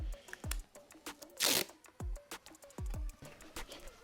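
A spray can of rust converter is shaken hard, its mixing ball rattling in quick sharp knocks with a brief rushing burst in between, close and fairly quiet, with no voice over it.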